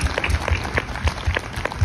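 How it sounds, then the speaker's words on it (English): Brief burst of audience applause for a dancer at a childhood cancer charity festival, dense clapping with low thumps underneath, short and fairly loud. "give that a huge round of applause"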